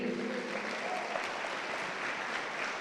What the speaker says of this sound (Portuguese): Você pode dar uma salva de palmas a Ele?